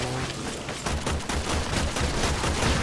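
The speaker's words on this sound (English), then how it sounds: "Oh, I'm using the pistols." Pistols firing in the video game Warframe: quick repeated shots pop in a fast steady rhythm over a thick wash of game action noise, loud and close, with no talking.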